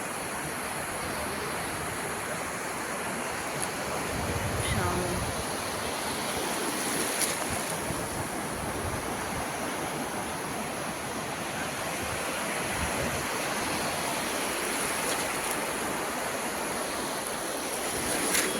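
Ocean waves breaking on the shore at Ganpatipule beach, a steady moderate wash of surf rolling in continuously, with no talking.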